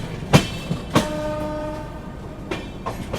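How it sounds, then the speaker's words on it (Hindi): The Rajdhani Express rolls into Gaya Junction with a series of heavy rhythmic clunks from the wheels over rail joints, a short horn tone sounding between them, nearby and fairly loud. "गया जंक्शन पर अपनी राजधानी का अराइवल यहाँ पे हो रहा है।"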